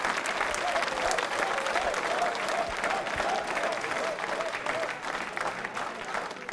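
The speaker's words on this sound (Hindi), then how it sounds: "जोरदार तालियां बजाइए।" Audience at a quiz show for accounts officers applauding loudly, a dense, sustained wash of many hands clapping with faint crowd murmur throughout.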